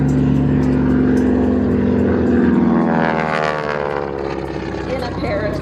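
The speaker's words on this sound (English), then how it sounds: "that sound you just heard was the sound of John's propeller tips going supersonic" A North American T-6 at an air show roars past with its propeller tips going supersonic, a loud sustained rasping buzz whose pitch slides downward as it passes, steady and close throughout.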